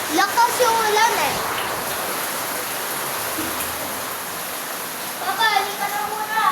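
Heavy rain pours in a steady, dense hiss close by, with voices talking over it at the start and again near the end.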